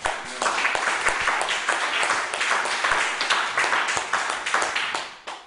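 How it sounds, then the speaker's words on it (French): A church congregation applauds together, a dense sustained clatter of many hands clapping for several seconds before it tapers off at the end. "Applaudissez un peu Jéhovah"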